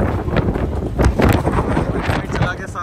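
Strong stormy wind roars and buffets the microphone in a continuous loud rush, with gusting bursts and rain during a storm that has broken a shed roof.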